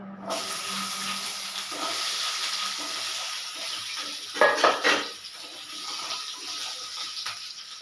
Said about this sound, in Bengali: কড়াইয়ে আমি কেটে রেখেছি আলু সে আলুগুলো তেলের উপর দিয়ে দিলাম